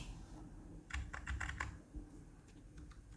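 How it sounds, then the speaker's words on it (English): Keys clacking on a Shivox G500C membrane gaming keyboard, a close burst of rapid strokes in the middle followed by a few scattered, lighter taps, over a low steady hum. "And these are the keyboard sounds."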